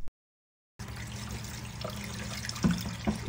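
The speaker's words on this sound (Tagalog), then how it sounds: "Hugasan lang nating mabuti para maalis ang kanyang mga nakatikit na dumi." Tap water running steadily into a sink while mung beans are washed to remove dirt, a continuous splashing stream after a short silence, with a couple of brief knocks near the end.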